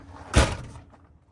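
A door on a 2006 Rockwood by Forest River camping trailer opens with one short, fairly loud thunk and a brief rattle, then fades into quiet.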